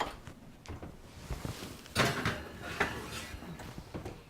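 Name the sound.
oven door being opened and closed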